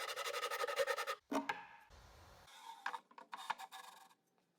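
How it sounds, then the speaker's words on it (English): A Shinto rasp files wood up close in bursts of coarse, rapid grating strokes separated by short pauses, the rasping fading out at the end. "Shinto rasp, at it again."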